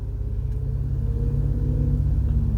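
A Cadillac ATS-V being driven, heard from inside the cabin through a lapel microphone: a steady, fairly loud low engine and road rumble holding evenly throughout.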